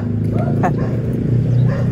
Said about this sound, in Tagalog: may aso na dito